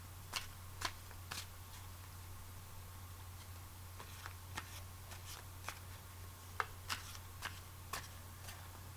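Tarot cards are shuffled by hand in quiet, faint bursts of crisp riffling and sharp taps, irregularly spaced over a low steady hum.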